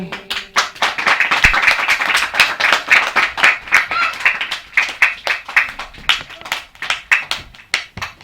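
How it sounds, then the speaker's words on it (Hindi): A crowd claps nearby, steady rapid applause that turns into rhythmic, pulsing clapping in unison. "बात शुरू भी ना हो और सब तालियां बजाने लगे"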